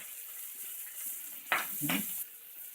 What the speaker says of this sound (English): We're going to use that fat to cook these vegetables and get that flavor all mixed in.